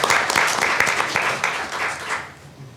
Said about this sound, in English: give Dr. Farmer a round of applause for that recognition